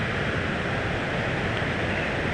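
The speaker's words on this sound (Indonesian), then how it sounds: "ini adalah sungai di depan saya persis ya, suaranya" Flowing water of the Cihonje river near Sumedang, a steady broadband rush close by, continuous and fairly loud, with no voices over it.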